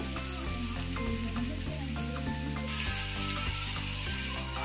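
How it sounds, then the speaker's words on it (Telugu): Spring onions frying in a pan for a spring onion and egg fry, giving a steady, continuous sizzle that holds at an even level throughout. "ఈ విధంగా మనము ఫ్రై చేస్తున్న కొద్దీ కొద్దిగా మంచిగా బాయిల్ అయ్యి ఫ్రై అయిన తర్వాత కలర్ ఆటోమేటిక్గా చేంజ్ అయిపోతుంది"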